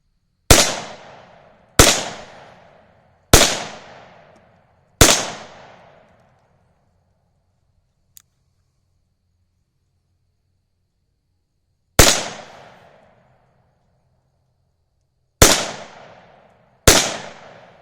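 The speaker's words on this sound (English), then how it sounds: "I'm shooting the silhouette down there." Sharp, loud cracks from a Remington Nylon 66 .22lr rifle fired at a silhouette target: four shots in steady succession, a long pause, then three more, each with a quick fading tail.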